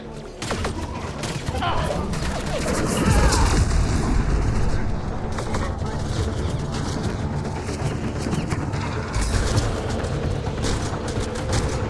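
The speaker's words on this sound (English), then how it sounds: "That is a lot of shooting going on, guys." Gunfire from a Mass Effect Andromeda battle, a dense continuous barrage of shots and booms with a sustained tone running through, loud and steady throughout while voices talk over it.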